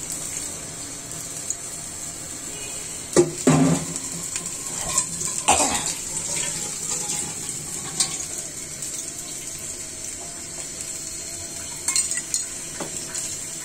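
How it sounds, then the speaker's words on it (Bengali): Hot water and broth poured into a pan of fried ridge gourd, hissing and bubbling with spoon scrapes and clinks against the pan over a steady sizzle. "গরম পানিটা ছেড়ে দিচ্ছি।"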